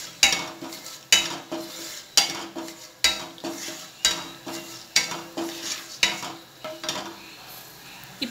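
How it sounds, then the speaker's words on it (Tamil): Cinnamon and cloves frying in hot oil in a pan for chicken gravy, a steady sizzle broken by regular stirring scrapes and clinks roughly every second. "அதில் வந்து பட்டை கிராம்பு இதெல்லாம் போட்டு ஃப்ரை பண்ணிக்கலாம்."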